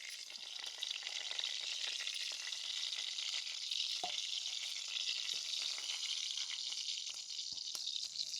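Cumin and mustard seeds fry in about two ladles of hot oil, a steady dense sizzle with faint stirring scrapes and occasional pops throughout, no voice over it.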